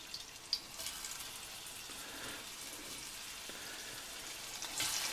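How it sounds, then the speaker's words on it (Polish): Quiet, steady sizzling of pork neck frying in hot fat, a soft continuous crackle with a small pop near the start. "Karkówkę wrzucam na rozgrzany tłuszcz."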